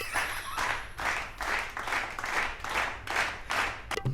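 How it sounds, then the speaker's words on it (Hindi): Rhythmic clapping in bursts, roughly eight claps spread evenly across a few seconds, fairly close and loud with no talk over it. "ताली बजाते हैं ये"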